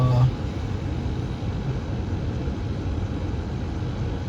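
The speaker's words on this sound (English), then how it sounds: "I turned the blower motor on" Blower motor of a Chevrolet Impala runs in the car's dash, a steady close broadband whoosh and hum that holds evenly from start to end.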